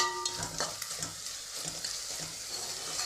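Tomato pieces fry in an oil tempering for tomato bath, a quiet continuous sizzle with light stirring taps, heard close with no voices.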